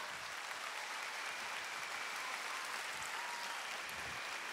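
A concert crowd at a live show in 2003 applauds, a steady, even wash of clapping from a large audience, heard at a distance and continuing unbroken without speech.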